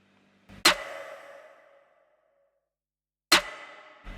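Two sharp, reverberant snare drum hits in a studio production, widened with a sample delay plugin, the first ringing out and decaying over about a second, the second arriving roughly three seconds later, alone with no talk.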